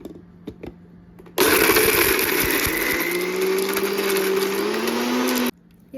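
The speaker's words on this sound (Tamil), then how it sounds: "இந்த கறி கொஞ்சம் சிக்கனை கொஞ்சம் அரைக்கணும்" A kitchen mixer grinder grinding chicken for keema vadai starts abruptly, whirs loud and close for about four seconds with a rising pitch, then cuts off.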